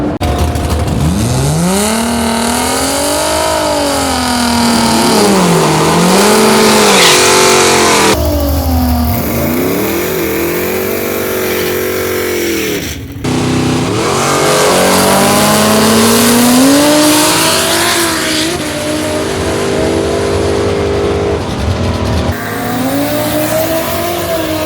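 A loud drag race car roars close by on a run down the strip, revving hard and climbing through gears in repeated rising surges, with brief drops between shifts.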